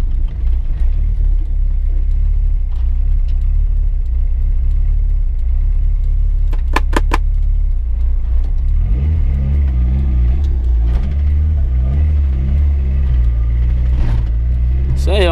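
A turbocharged car drives along with a loud, constant engine drone and road rumble from inside the cabin; the engine note rises partway through, and a few faint clicks are heard.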